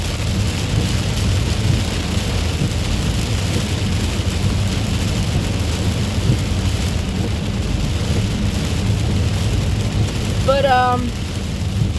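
Heavy rain pours in a steady, dense roar that fills the whole stretch, with a voice speaking briefly near the end.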